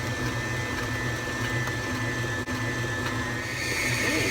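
An electric mixer beats pound cake batter with a steady, close motor whir that holds constant under a faint rhythmic churning, with no talking.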